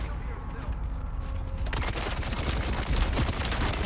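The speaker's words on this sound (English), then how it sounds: "Stop shooting me through the wall." Rapid gunfire in a video game, shots punching through a wall, starting after a quieter opening and continuing as dense, loud bursts to the end. Speech is faintly present alongside.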